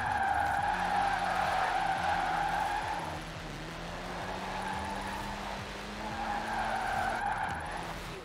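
A car in Forza Horizon 4 skids through a handbrake drift with sustained tyre squeal over revving engine noise, easing midway and then swelling again, with no talk.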